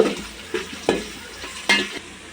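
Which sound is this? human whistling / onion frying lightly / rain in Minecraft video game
onion frying lightly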